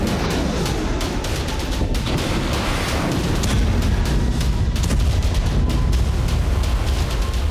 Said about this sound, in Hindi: नॉर्थ कोरिया ने बैलिस्टिक मिसाइल का परीक्षण किया, जो IRBM यानी इंटरमीडिएट रेंज बैलिस्टिक मिसाइल है।